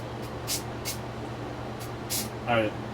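Several short hissing sprays of CA glue accelerator puff out in quick bursts over a steady low hum, the last one joined by a faint squeak.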